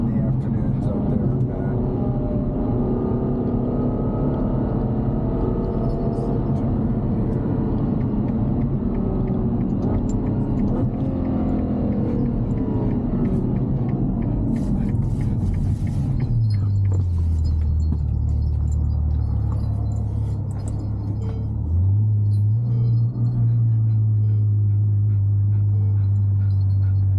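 A Ferrari GTC4Lusso on the road in Ketchum, Idaho, giving a steady low engine and road rumble throughout, with the engine note dropping and then rising again near the end, under people talking inside the cabin.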